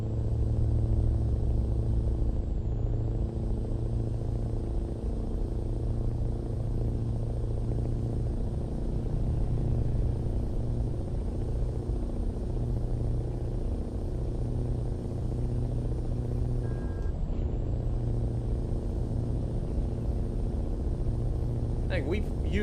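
A truck drives through a tunnel, sped up on purpose, giving a steady loud engine rumble and road roar that fills the space without pause.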